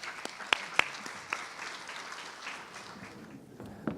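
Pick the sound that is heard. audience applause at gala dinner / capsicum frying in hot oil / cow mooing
audience applause at gala dinner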